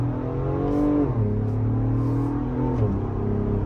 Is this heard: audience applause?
no